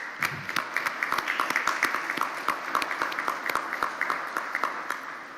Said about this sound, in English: join me in giving all those folks a round of applause